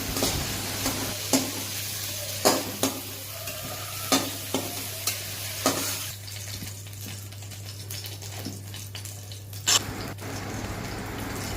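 Okra (bhindi) fries in a pan while a utensil stirs it, giving steady close sizzling broken by a string of sharp scraping clacks that thin out in the second half.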